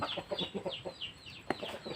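A chicken clucks in short, repeated bursts at close range while it eats a herbal remedy given as a treatment for bruising after training, with a sharp knock partway through.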